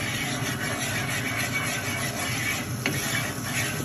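Popcorn kernels stirred with Flavacol seasoning salt in a frypan, giving a steady close rustling scrape over constant background noise, with a faint clink near the end.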